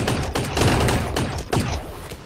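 Rapid bursts of minigun fire in the VR shooter game Gun Raiders, with a dense rattling stream broken into several short volleys over a couple of seconds, loud and close.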